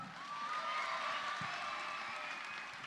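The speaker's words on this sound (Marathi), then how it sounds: "आजीसाठी जोरात टाळ्या." An audience applauds a grandmother at a children's medal event in Pune: a dense, steady wash of clapping and crowd noise, no one speaking, holding at an even level throughout.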